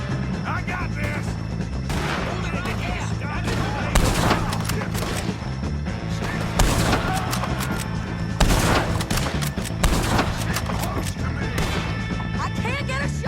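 Gunfire in a Red Dead Redemption 2 shootout: dense, loud volleys of rapid shots and heavy impacts that go on without a break, with shouted voices in the mix.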